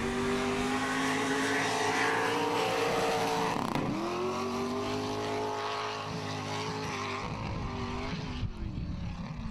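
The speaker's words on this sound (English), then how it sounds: "It's good to hear Trevor leave the line." Loud, close engine roar of an LS-powered orange Mitsubishi Triton race car pulling away from the start line at an enduro race in a pine forest, revs rising and shifting as it accelerates, with no talk over it.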